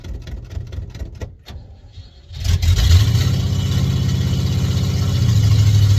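A 53-year-old car with a major engine issue runs with its choke wide open; after some quiet shuffling the engine catches and settles into a loud, rough, steady idle that rises slightly in pitch near the end.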